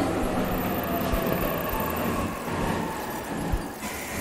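A train in the video game 13 Sentinels: Aegis Rim rumbles along steadily with a rhythmic clatter of wheels on the track, moderately quiet and continuous throughout.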